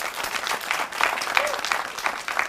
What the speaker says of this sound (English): Please, let's clap for him.